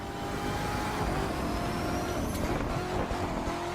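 A hypercar engine roars in The Crew 2 racing game, a loud continuous drone with a rising and shifting pitch, with no talk over it.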